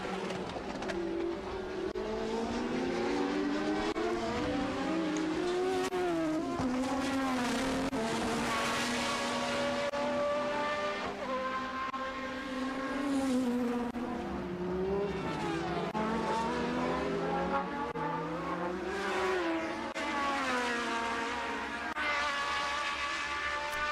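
Formula 1 race cars at the 1983 Dutch Grand Prix howl past at full throttle, their engine pitch rising and falling continuously and loudly throughout.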